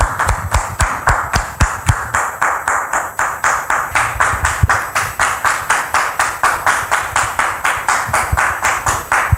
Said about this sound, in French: Merci de recevoir la sœur Kofi Cynthia sous vos applaudissements